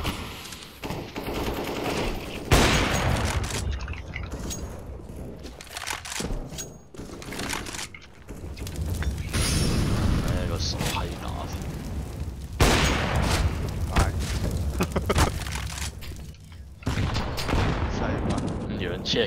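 AK and M4 rifles fire in a Counter-Strike: Global Offensive competitive match, with dense overlapping bursts and single shots in a close, loud firefight, while players talk over the gunfire.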